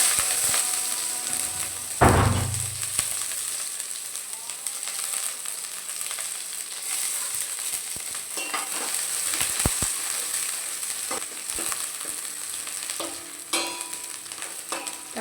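Mustard seeds fry in hot oil in a pan for a homemade sambar, giving a steady close sizzle with scattered sharp pops and crackles, including a loud burst near two seconds and another near thirteen seconds, with no talk.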